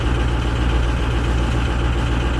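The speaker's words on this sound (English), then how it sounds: "I'm sorry if it got noisy because I had to start the bus" A bus engine idles after being started, a loud, steady low rumble with a constant hum that runs evenly and close throughout, with no talking.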